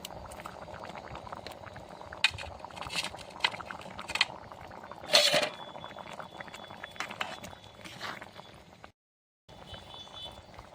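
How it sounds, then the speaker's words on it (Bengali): Ghugni, spiced peas, boiling in a covered pot on the stove, giving a steady soft bubbling patter with a few sharper clinks, all at low level, then a brief silence before the simmer resumes. "ফুটতিছে আমার।"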